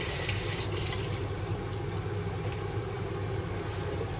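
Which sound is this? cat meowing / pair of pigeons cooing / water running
water running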